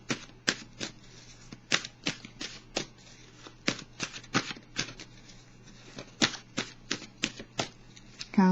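A deck of oracle cards is shuffled by hand before one is drawn: quick, crisp riffling bursts repeat in an uneven rhythm, close and fairly quiet, with no talking.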